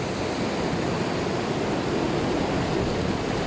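Sea waves washing onto a beach at Jastarnia, a steady broadband roar of surf with no distinct breaks, mixed with some wind, close and continuous with no one speaking.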